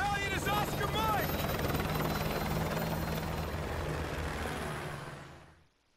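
Military helicopter in Call of Duty Modern Warfare 2 gives off a steady, loud rotor drone that holds for about five seconds and then fades out, with a brief voice-like chirp near the start.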